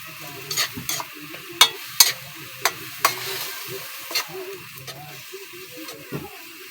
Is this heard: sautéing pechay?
yes